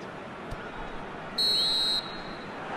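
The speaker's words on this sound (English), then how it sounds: "And there goes the final whistle." A referee blows one long, sharp final whistle at an AFC U23 Asian Cup football match between Qatar and Indonesia, piercing above the steady roar of a stadium crowd.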